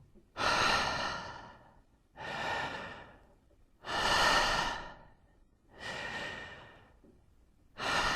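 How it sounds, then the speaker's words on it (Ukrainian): Wim Hof method breathing: a run of long, forceful exhales, each a loud airy whoosh that fades out, repeated about every two seconds with short quiet gaps between, close to the microphone and without talking. "Повний вдих. Відпускаємо."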